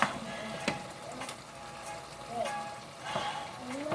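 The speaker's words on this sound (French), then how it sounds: "On va mettre maintenant les champignons" Mushrooms frying in a pan give a soft, steady sizzle with occasional spoon scrapes and stirring knocks, close by, and faint voices talk in the background.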